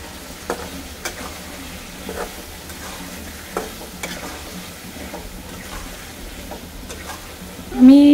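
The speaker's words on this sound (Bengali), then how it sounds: "ভালো করে কষাবো।" Turmeric and salt are stirred into a vegetarian dish sizzling in a pan, with a steady frying hiss broken by regular spatula scrapes about once a second and a short rising voice-like sound at the very end.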